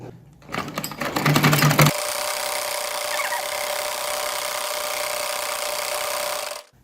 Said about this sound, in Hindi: चलिए अब मैं सबसे पहले इस गले को सिलाई लगाऊंगी